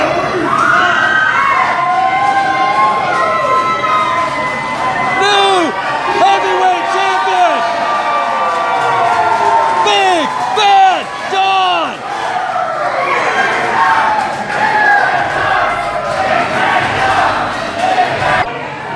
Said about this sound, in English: You heard the crowd going absolutely crazy!